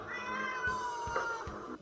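A cat meowing in drawn-out, wavering calls, repeated a few times at moderate volume with faint background sounds.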